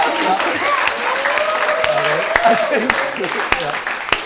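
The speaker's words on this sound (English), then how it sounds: "I think that's an applause break for The Rock." Studio audience clapping in an applause break, steady clapping with sharp louder claps and people talking over it.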